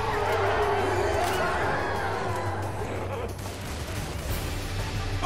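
Rifle gunfire rattles in a Left 4 Dead 2 match, with dense, loud bursts of shots and game noise running throughout the short stretch.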